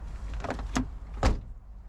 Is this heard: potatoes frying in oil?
no